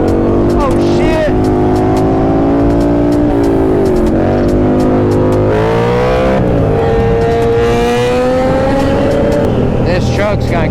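A truck engine roars and revs steadily nearby as it speeds through traffic at a hood ride with bikers, loud and continuous with shifting pitch, while people talk and exclaim over it.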